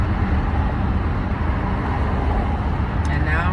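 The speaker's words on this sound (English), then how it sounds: "And now I'm running into traffic." Steady, loud road and wind rumble from a car driving in traffic with the windows open, filling the whole stretch with a constant broadband roar.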